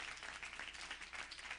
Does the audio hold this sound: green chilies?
no